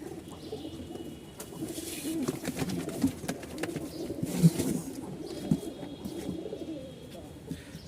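Soft, low pigeon coos murmur continuously in a busy background, with a few light flutters and faint rustling mixed in.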